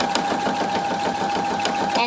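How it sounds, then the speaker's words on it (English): A sewing machine stitches fabric for a home décor pillow, making a steady, close mechanical whir with rapid rhythmic needle beats throughout. "help guide your fabric through the sewing machine"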